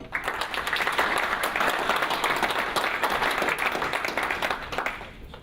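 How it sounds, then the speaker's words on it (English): Sustained applause from a conference audience at an annual meeting, steady dense clapping at even volume for about five seconds before thinning at the very end. "So please join me in a round of applause for Kirk"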